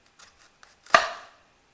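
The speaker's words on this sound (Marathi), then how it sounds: "आता शिमला मिरची कापायची." A knife chops capsicum on a board: a few faint light taps, then one sharp, close cut that rings briefly in a quiet room.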